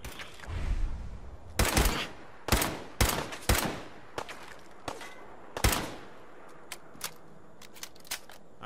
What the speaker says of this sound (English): There's a lot of gunfire going on, whatever it is.